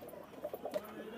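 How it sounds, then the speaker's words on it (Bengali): At a busy pigeon market in Khalishpur, Khulna, caged pigeons give a few faint, short coos against a quiet background hum. "খুব ভালো কোয়ালিটির কবুতর"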